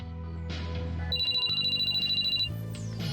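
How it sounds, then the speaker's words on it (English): A cell phone rings in the video game Sweet Fuse: At Your Side, a repeating electronic trill that pulses for over a second over soft background music. "Then Shirabe's cell phone rang"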